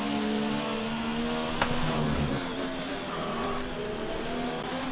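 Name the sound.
Red Bull F1 car engine driving, from video game F1 2019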